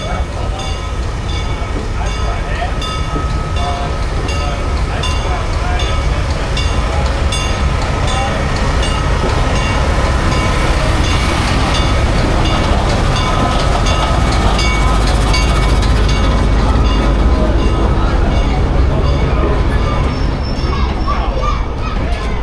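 Small ride-on railroad train at a festival in Denton, North Carolina, rumbling steadily and close with rhythmic clatter through the whole stretch, surrounded by crowd chatter and voices of children.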